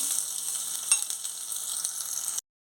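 Rapid, dense crackling and spluttering of tempering spices hitting hot ghee, steady and close for a couple of seconds, then cutting off abruptly.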